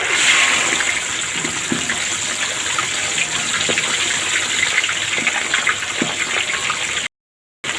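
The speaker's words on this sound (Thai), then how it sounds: "น้ำมันร้อนแล้วนะทุกคน เราจะก้าลงมันทอดก่อนนะ" Batter-coated food goes into hot oil and sets off a loud, steady sizzling hiss with scattered crackles that runs for about seven seconds before cutting out abruptly.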